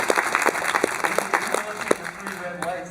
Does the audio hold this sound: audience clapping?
yes